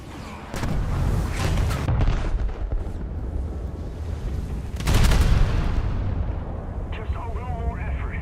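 Ship guns in a naval battle game fire back at an enemy, giving a few heavy booming blasts with rumbling tails, and a voice talks between the shots.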